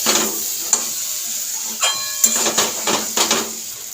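Spice paste fries with gathi kochu taro in a pan, a gentle hiss broken by several sharp scraping stirs and clinks of the spoon, close and fairly loud, with no talking.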